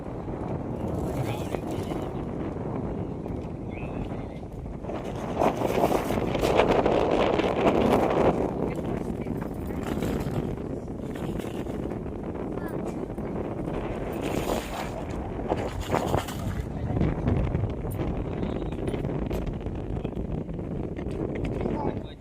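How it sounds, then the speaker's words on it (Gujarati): Steady cold wind rushes and buffets the microphone throughout, outdoors in a village near Shamlaji, with someone talking over it at close range. "આ બધો ઠંડો પવન ખા બેઠી"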